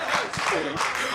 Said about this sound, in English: Big round of applause for England there.